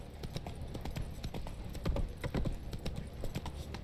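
Roach the horse trots in a video game, hooves clip-clopping in a brisk, steady rhythm close up, with faint background game sounds.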